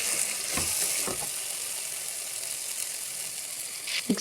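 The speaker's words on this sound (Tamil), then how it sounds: "அடுத்தது நம்ம வந்து கொத்தமல்லி புதினா ஆட் பண்ணிடலாம். எல்லாத்தையும் சேர்த்து ஒரு குட் மிக்ஸ் கொடுத்துருங்க." Coriander and mint are stirred into biryani masala frying for a Chennai mutton biryani, giving a continuous sizzle with a few scraping stirs near the start and end.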